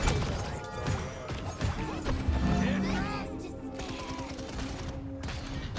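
Rapid gunfire in Rainbow Six Siege, dense overlapping shots and impacts rattling close and loud throughout, with a brief voice heard partway.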